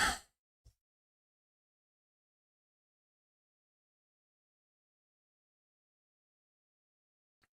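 A single sharp sneeze bursts out close to the mic at the very start of a chatty game stream, followed by a faint click and then long silence.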